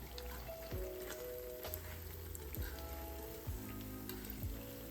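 Fried apple pies made from canned biscuits sizzle in hot oil in a pan, a steady, soft crackling hiss with occasional pops and no talk.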